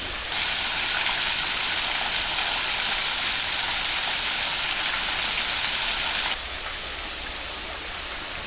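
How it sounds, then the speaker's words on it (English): A waterfall swollen by recent rain near Branson, a loud, steady rushing roar of falling water that drops slightly in level toward the end. "There's a beautiful waterfall."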